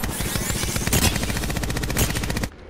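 Rapid automatic gunfire in a multiplayer shooter match, a dense unbroken string of loud close shots rattling for over two seconds before cutting off abruptly.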